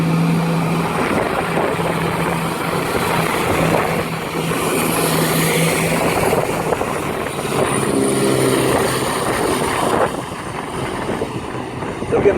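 A Class 170 diesel train departs a platform at Peterborough with a steady droning engine rumble and broad rushing noise that holds for the whole stretch, dropping back slightly near the end.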